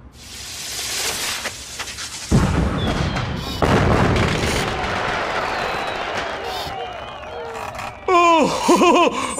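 Fireworks in the Puss in Boots video game burst with a few loud booms and crackles, followed by whistling trails and bright chirping effects, mixed with game music and a voice talking over them.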